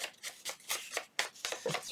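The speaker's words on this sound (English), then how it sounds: "It's ripping already." Very old, fragile paper rips in a few short, dry bursts, quiet and close, with no talking.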